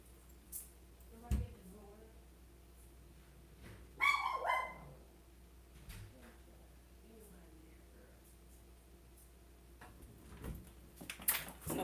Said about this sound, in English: See why this dog is barking.